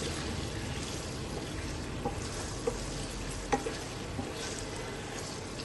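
Crushed garlic and whole green chillies fry in hot oil with a steady, soft sizzle, broken by a few small pops and stirring clicks, no voices.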